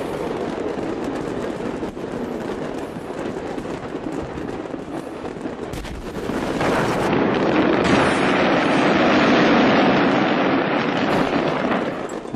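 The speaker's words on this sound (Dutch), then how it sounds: "Dat was de eerste ontploffing." A house explosion heard from across a residential street: a broad, rumbling blast swells up midway and lingers as a roaring, crackling wash, following a stretch of steady background noise.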